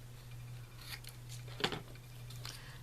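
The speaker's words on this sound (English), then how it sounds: "use this scrap piece of paper here. I'm just going to cut it" Scissors snip through a scrap piece of paper while making a paper bow, a few short, quiet cuts clustered together over a low steady hum.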